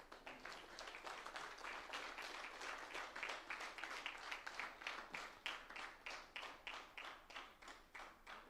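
An audience at a business chapter launch event in Nelamangala, Bangalore applauds with steady, dense clapping that goes on for several seconds and then breaks into rhythmic, pulsing claps near the end.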